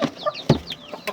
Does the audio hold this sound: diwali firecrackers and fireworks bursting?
no